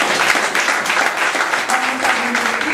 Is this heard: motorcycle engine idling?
no